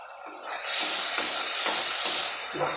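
Spice paste being sautéed and stirred in a pan for an egg and potato-pointed gourd curry, a loud steady sizzle with soft scraping strokes from a spoon, close and without talk.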